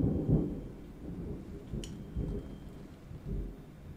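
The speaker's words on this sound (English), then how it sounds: "I hope you're hearing the thunder in the background and it's bringing you great peace." Distant thunder rumbling low beneath steady rain falling outdoors as a storm arrives, soft and diffuse with a few swelling rolls and a faint sharp tick near the middle.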